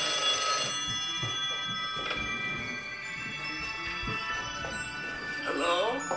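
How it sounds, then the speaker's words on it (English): An old-style telephone bell rings continuously in close, bright trills while someone talks over it. "Whenever Sonoma calls me on this phone, he has something important to tell me"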